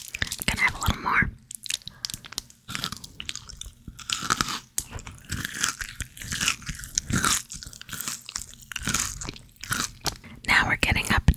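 Close, crisp crunching and chewing of British chocolate bars, bursts of bites and mastication with pauses between them, along with soft whispery mouth sounds.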